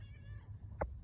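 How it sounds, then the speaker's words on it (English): A single short cat meow, soft and close, rises briefly over a quiet low hum in a home setting. "hey kitty cat."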